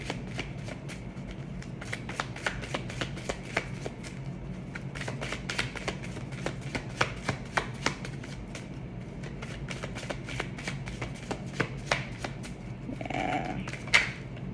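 Tarot cards are shuffled by hand in a long run of quick, crisp riffling flicks and slaps, close and fairly steady, with a brief faint murmur near the end.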